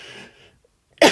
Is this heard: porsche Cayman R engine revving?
no